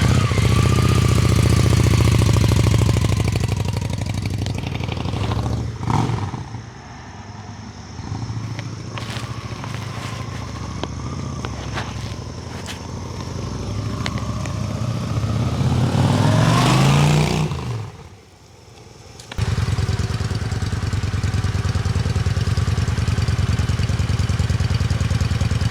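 A 2001 Honda Shadow VT750 American Classic Edition motorcycle engine runs steadily with a loud, low rumble, briefly cutting out near the end before picking back up at idle.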